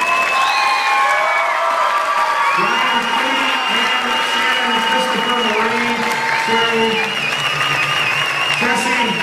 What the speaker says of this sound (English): So can we please get a big round of applause for all the teachers today?